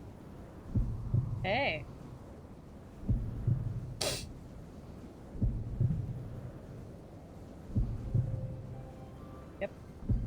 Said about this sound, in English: Heart beating.